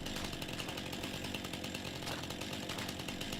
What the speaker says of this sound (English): Whip out the old chainsaw.